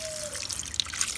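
Clean water pours into a cooking pot for a pork shank (chamorro) dish, a soft steady trickle and dribble of about a cup of water, close and fairly quiet with no talking.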